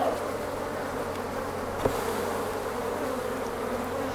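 A dense, steady buzz of many honeybees swarming nearby, continuous and agitated, with a single faint knock partway through.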